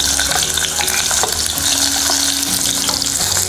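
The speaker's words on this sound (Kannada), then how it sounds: "ಈಗ ಎಣ್ಣೆ ಕಾದಿದೆ. ಇದಕ್ಕೆ ನಾನು 2 ಈರುಳ್ಳಿನ ನಾನು ಹಾಕ್ಕೊಳ್ತಾ ಇದ್ದೀನಿ." Two onions dropped into hot oil for a mutton fry, frying with a steady, close sizzle and crackle that runs throughout with occasional stirring scrapes.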